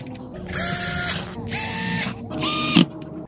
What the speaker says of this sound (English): next step will be to screw everything right back in place where we found it.